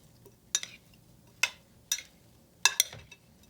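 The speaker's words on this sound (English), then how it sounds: "Just try to gently coat those potatoes with that garlic," A spoon gently turns potatoes in a garlic, oil and butter mixture, giving a handful of sharp metallic clinks and scrapes against the dish in irregular bursts over a quiet background.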